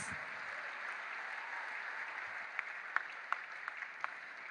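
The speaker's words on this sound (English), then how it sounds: "A round of applause for the Rampe Aceh dance." Steady, moderately distant applause from an audience at a press freedom prize ceremony after a Rampe Aceh dance performance, with a few sharper individual claps standing out near the end.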